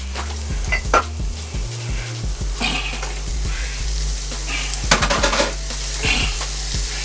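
Ground beef sautéing in a pan for chili sauce, with a low sizzle under repeated clanks and scrapes of a utensil against the cookware.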